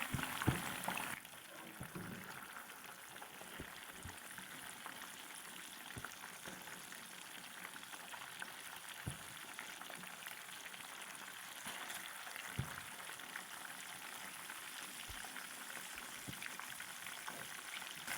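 Fish frying in oil in a pan, turned to its second side: a steady, close crackling sizzle with scattered pops and small spatters running through the whole stretch, no one talking.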